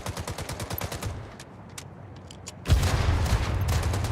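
Automatic gunfire in Gangstar Mirage City, a rapid stuttering burst that stops, leaves a few scattered shots in a lull, then resumes as a loud, dense volley.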